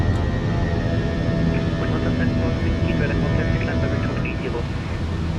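Airbus A321 engines at climb thrust in a Fenix flight simulator, a loud steady broadband jet roar with faint tonal whine, continuous and unchanging throughout.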